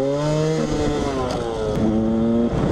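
A Yamaha YZ 125 two-stroke dirt bike converted for enduro, its carburettor poorly tuned, revs up and down close by, its engine note rising and dipping continuously.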